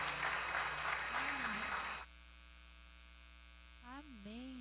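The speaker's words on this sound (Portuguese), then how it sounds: "recebam a serva do Senhor aplaudindo bem forte a Jesus" A church congregation's applause, busy clapping for about two seconds that cuts off abruptly, leaving a steady electrical hum with a brief voice-like warble.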